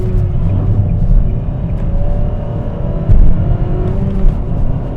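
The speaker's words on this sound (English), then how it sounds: "Oh, outer wheel peel." A 2021 Nissan Sentra's outer wheel spins and peels on hard acceleration during a night test drive, a steady loud engine and road drone with brief surges of tire and revving noise, no talking.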